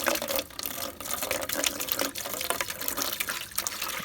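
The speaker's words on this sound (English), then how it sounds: "and just fill her with water." A garden hose at poor pressure runs water into a bucket, a steady rushing, splashing pour with small fluctuations, close and moderately loud, with no talk.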